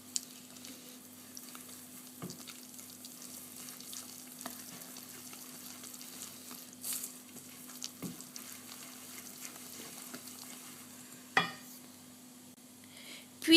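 Coconut cake batter with melted butter is stirred steadily in a bowl, making a soft, continuous wet swishing with occasional light taps of the utensil, close and fairly quiet over a faint hum.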